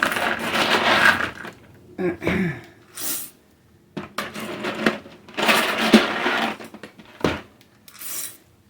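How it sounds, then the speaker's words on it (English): Dry pinto beans pour into a container in several separate bursts of dense rattling and clattering, close and loud, broken by brief pauses. "So, I'm just going to start filling it up with some pinto beans. Some dry pinto beans."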